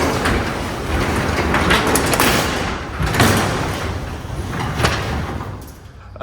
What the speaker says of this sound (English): another way to look for signs of the hinge being the cause of that is by opening your door